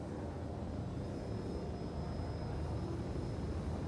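Jet aircraft engine with afterburner lit in a flight video game, a steady loud broadband roar with a faint high whine, continuous throughout with no talk.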